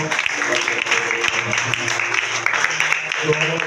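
Congregation at a morning church service applauding for the Lord, steady clapping from many hands with voices mixed in underneath.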